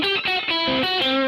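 Electric guitar through an Origin Effects Revival Drive overdrive set to a Marshall-style voicing, a few quick distorted notes picked in succession, bright and saturated, played alone.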